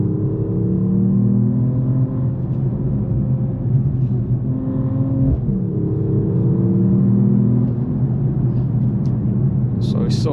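A 2026 Mercedes-AMG E 53 Hybrid sedan accelerating, heard from inside as a steady, fairly loud engine drone and road rumble that rises slightly in pitch over ten seconds, with a brief click near the end.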